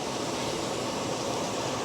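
Steady broadband hiss of steam venting from a pressure canner's open vent before the weight goes on, while preserving meatballs and ground beef; an even, continuous rush with no breaks, close and moderately loud, with no talking.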